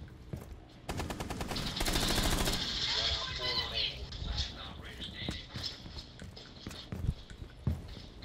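Rapid machine-gun fire rattles in a shooter video game, a dense fast burst of close shots followed by scattered single cracks and clatter, with a player voice over the action.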